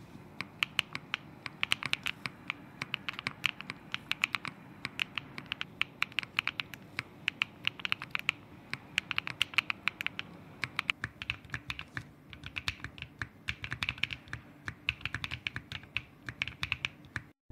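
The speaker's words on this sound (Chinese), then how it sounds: "说归说，还是简单给大家来一段打字音" Brisk typing runs on a Tech Bear8 TB8 mechanical keyboard, an aluminum board in an anodized red kit fitted with bubblegum switches. The keystrokes are fast, crisp and close, clattering continuously with no voices.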